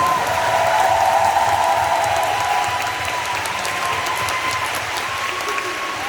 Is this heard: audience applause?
yes